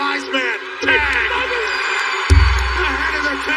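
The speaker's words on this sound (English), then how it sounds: "That's the sound of a sold-out Dunkin' Donuts Center ready to implode" Sold-out arena crowd at a WWE wrestling event roars and cheers loudly and continuously, swelling sharply partway through, with an announcer's excited voice calling over the noise.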